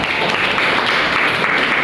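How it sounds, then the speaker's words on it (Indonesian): Applause in a classroom, a continuous dense patter of clapping from a group of students held steadily at close range for about two seconds, with no talking over it. "tepuk tangan dulu buat Afra."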